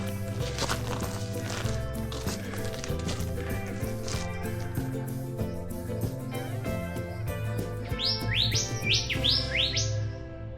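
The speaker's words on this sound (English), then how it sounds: "Just sitting here listening to the birds," Birds chirp and tweet outdoors on a forest walking track at Mt Nebo, with a quick run of high rising chirps near the end over a steady background hum and occasional thuds.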